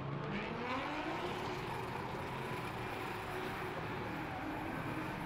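Drift race cars at a French drift championship round accelerating on track, a continuous loud engine roar with rising and shifting revs, heard from a distance with a steady wash of noise and no talking.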